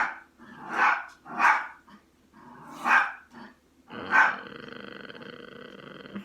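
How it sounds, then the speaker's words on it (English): A dog barks in several loud, close bursts spaced about a second apart, followed by a sustained, drawn-out growling or howling tone. "Sorry, that's my dog."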